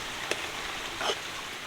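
Heavy rain falls across open paddy fields as a steady, soft hiss, with a couple of brief, slightly louder drop splashes.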